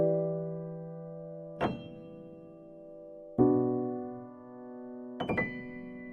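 Vintage soulful chord samples played dry in FL Studio: three sustained keyboard chords, each struck with a sharp attack and left to ring and fade, clean and close with no voices.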